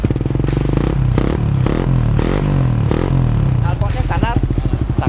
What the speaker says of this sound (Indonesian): Kita akan geber suaranya.